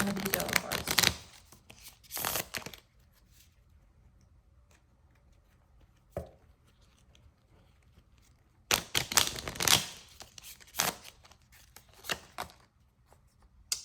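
Yellow tarot cards are shuffled and pulled from the deck in a pick-a-card reading, giving several brisk bursts of rustling and flicking with quiet gaps between them and a voice talking in the pauses.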